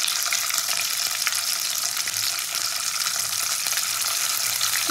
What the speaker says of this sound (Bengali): তো তেল তো আমার গরম হয়ে গেছে, প্রথমে আমি শিমগুলো দিয়ে দিলাম, শিম আর বিনসগুলো দিয়ে দিলাম।